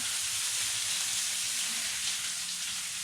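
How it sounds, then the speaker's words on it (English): Seasoned steaks browning in a pan give off a loud, continuous hissing sizzle that holds steady throughout with no voices. "sprinkle a little bit on those steaks while they're cooking. You'll want them to brown just a few minutes on that side"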